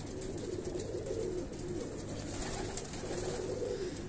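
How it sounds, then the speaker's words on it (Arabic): A pigeon coos in low, repeated rounded phrases against a steady background hum. The calls are moderately close and come in a loose rhythm, with no one speaking. "هاي الطيرة ما شاء الله"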